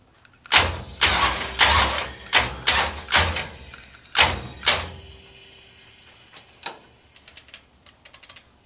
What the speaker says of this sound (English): we're going to bump the motor over until I go all the way around 180 degrees again